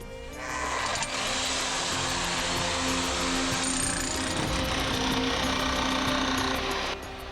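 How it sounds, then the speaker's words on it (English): A generator-powered electric jackhammer breaks rock inside an emerald mine, a harsh, loud, continuous rattling roar that starts abruptly, holds steady for several seconds and then stops. "One has an electric jackhammer powered by a generator outside. it makes an insane noise, both inside and out."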